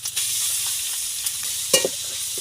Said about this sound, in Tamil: அப்புறம் வந்து வெங்காயம் வந்து தட்டி வச்சிருக்கிறேன் இதையும் வந்து சேர்த்துக்கிறேன்